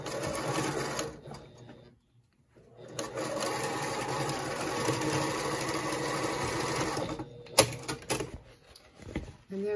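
A sewing machine runs steadily, stitching a lined zippered pouch, loud and close with a brief pause, then a final short burst and a thump near the end.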